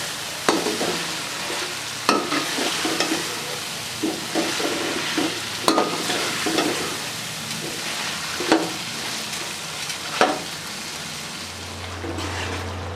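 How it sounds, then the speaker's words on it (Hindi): Potatoes tossed into spiced masala and fried in a pan: a loud, continuous sizzle broken by regular spoon strokes and scrapes, close up and with no speech. "आलू को अच्छे तरीके से मिक्स करके फ्राई करेंगे।"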